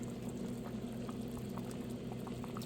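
Broth for ham bone soup heating in a pot on the stove, a steady, quiet bubbling simmer with small pops scattered throughout, continuous and unchanging.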